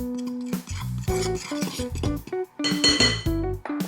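Quick mix of baking soda and salt in a bowl for snickerdoodle cookie dough, a run of bright clinks and taps close up, loud and alone.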